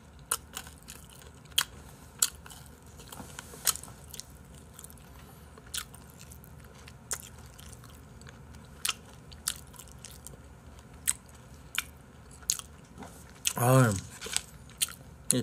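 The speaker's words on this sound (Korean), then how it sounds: "방송 중에 건어물 금지야. 씹는 데 집중하니까 졸라 조용해지네." Someone chews hard dried seafood snacks up close: a long run of sharp, sparse crunching bites spread irregularly over the stretch, with one brief louder burst near the end and a short spoken syllable.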